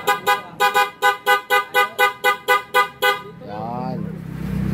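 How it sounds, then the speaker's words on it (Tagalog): A stock Rusi Raider 150 motorcycle horn honks in a rapid, even series of about a dozen short toots, then stops and the engine idles on. "Stock na busina."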